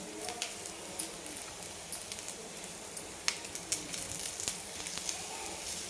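Broken green chillies sizzling in hot oil in a pan for spicy masala brinjal, a steady close frying hiss scattered with sharp crackles and pops, fairly loud, with no talking.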